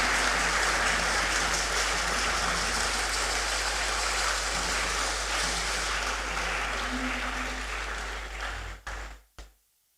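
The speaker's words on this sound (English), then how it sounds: "Let's give him another round of applause." A large audience applauds after an inaugural lecture, a sustained dense wash of clapping under a low steady hum that cuts off abruptly near the end.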